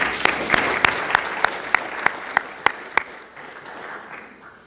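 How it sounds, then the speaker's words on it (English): An audience at a clinical leadership summit claps in a sparse, evenly paced run of about ten sharp hand claps over a soft room murmur. The claps are moderately loud and trail off toward the end, with no voices heard. "So give yourselves a round of applause."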